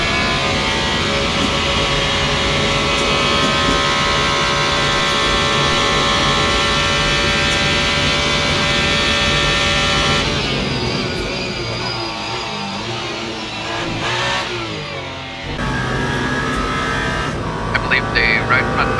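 Alpine race car engine howling at sustained high revs down the Mulsanne Straight in the Le Mans Ultimate racing game, a loud steady drone that dips and shifts near the end, with a voice talking over it.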